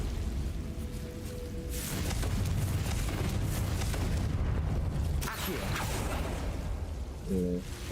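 The Confringo fire spell in Hogwarts Legacy bursts in loud, rumbling blasts, one near the two-second mark and another around five seconds, over continuous battle noise, with a brief voice near the end.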